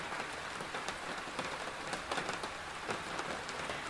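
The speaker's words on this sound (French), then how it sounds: "la pluie est froide" Cold rain falls steadily, a dense close hiss of drops pattering on surfaces with brief splashy bursts throughout, no voices.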